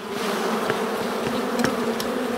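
A dense, close swarm of honeybees being shaken off a hive frame buzzes continuously at a steady, loud drone, with a few sharper individual buzzes passing near.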